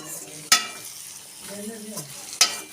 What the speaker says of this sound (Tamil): தாளிச்ச சட்டியில் வந்து பெரிய வெங்காயம், கடுகு, தக்காளிலாம் போட்டு தாளிச்சம் பண்ணுறோம்.